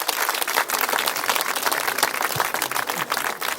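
Audience applause at a naming-ceremony celebration for Jean Gab'lou: a steady, dense patter of many hands clapping throughout, fairly close and uninterrupted, with no clear talk over it.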